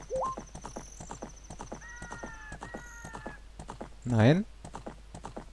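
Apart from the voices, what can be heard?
horse riding hooves in video game Zelda Ocarina of Time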